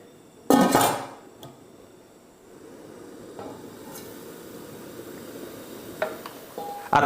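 A metal lid clatters loudly onto a cooking pan of pancit canton on the stove, a sharp clanging burst followed by softer simmering noise and a few light clinks near the end.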